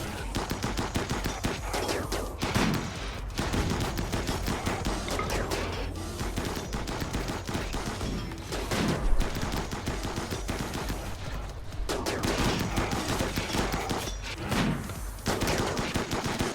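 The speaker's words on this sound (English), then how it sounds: "This is pretty good shooting practice." Rapid gunfire from a colony's shooting practice in RimWorld, dense repeated shots and bursts running continuously at steady loudness with occasional heavier cracks.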